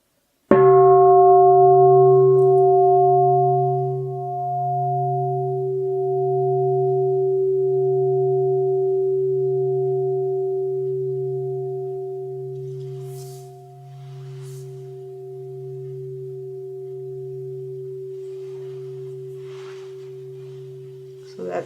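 A meditation bell is struck once and left to ring, its steady, pure tone with a low pulsing hum sustaining loudly for over twenty seconds, slowly fading before a faint touch at the very end.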